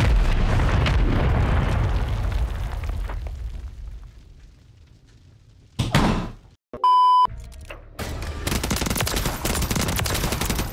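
An MGB killstreak explosion in Call of Duty MW3 opens with a loud rolling blast that fades away. A near-silent gap follows, then a sharp hit, a short game tone, and another wash of loud noise.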